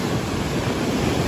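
Ocean waves wash against a rocky shore during a seaglass hunt, a steady, loud broadband roar of surf mixed with wind buffeting the microphone, continuous with no break or spoken voice.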